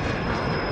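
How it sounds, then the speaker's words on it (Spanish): Airplane flying overhead in Call of Duty: Modern Warfare, a loud, steady broadband engine roar filling the whole moment with no break. "Pónganle caño escape con silenciadores ese maldito avión."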